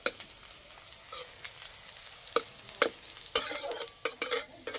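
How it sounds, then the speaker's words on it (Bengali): Crushed garlic and dried red chilies fry in mustard oil in a kadai, a low steady sizzle punctuated by sharp scraping clatters of a spatula stirring at irregular intervals. "রসুন আর শুকনো লঙ্কাটা ভালো করে ভেজে নেব"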